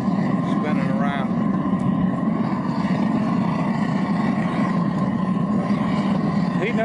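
Steady, loud roaring rumble of a homemade aluminum melting furnace burning with a swirling tornado flame while pistons melt, a constant dense noise with no pauses.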